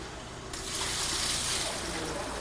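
Water gushing from a well in southwestern Minnesota, a steady rushing flow that swells louder after a moment and keeps running without a break.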